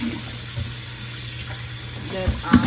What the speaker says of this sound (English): You pour the water out like this.